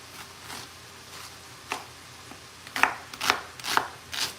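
A kitchen knife chops through a large onion by hand on a board: a few scattered cuts, then a quicker run of sharp, close taps near the end.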